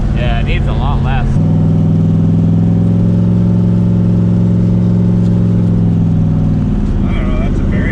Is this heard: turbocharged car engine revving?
yes